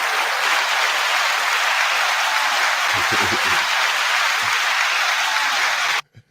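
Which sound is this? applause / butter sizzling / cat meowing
applause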